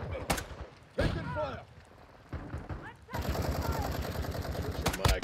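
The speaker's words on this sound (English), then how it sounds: "I'm taking fire!" Call of Duty gunfire comes in a couple of sharp shots, then a sustained rattling machine-gun burst, close and fairly loud, with game voices calling out in between.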